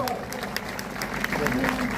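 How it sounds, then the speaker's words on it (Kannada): Audience applause at a ceremony where two pontiffs from Harakud math receive the Basava Bhanu award: steady, dense clapping that fills the whole moment, with a voice or tonal sound running underneath. "ಜೋರಾದ ಚಪ್ಪಾಳೆ."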